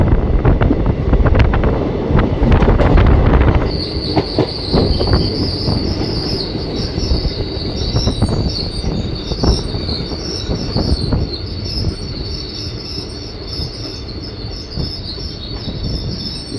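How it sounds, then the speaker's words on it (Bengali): The Ahmadpur-Katwa passenger train enters Labhpur station as loud, close wheel rumble and clatter gives way to a long, high-pitched squeal of wheels on the rails that carries on to the end, with no voices. "ট্রেন এবার লাভপুর স্টেশন এন্টার করবে।"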